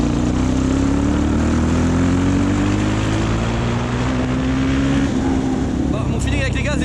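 A Suzuki DR-Z motorcycle fitted with an FCR 39 carburetor is held at full throttle from low revs, its engine drone loud and close with pitch climbing steadily, wind buffeting over it.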